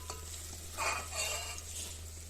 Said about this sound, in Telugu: ఒక చిటికెడు పసుపు వేసుకొని మంచిగా కలుపుకోవాలి.